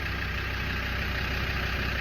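A Land Rover Defender TD5 diesel engine runs after a restoration with its wheels off, a steady close idle with a rhythmic low knocking clatter and no voices.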